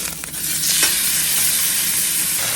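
Milk and water boiling in a pot on the stove for pastoroni pasta, a steady broadband hiss and bubbling that runs continuously, with a few brief clinks near the start.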